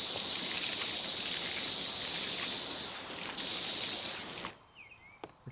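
Steady hissing spray of liquid from a nozzle being rinsed, loud and continuous, with a brief break near the middle and a sharp cutoff toward the end leaving faint quiet sounds.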